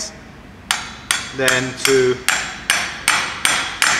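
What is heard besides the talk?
hammering an AC compressor clutch bearing into place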